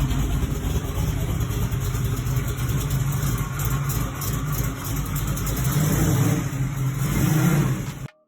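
A blue 1932 Ford Roadster hot rod engine runs close and loud, a rough steady idle with a slight rev swell near the end before it cuts off abruptly.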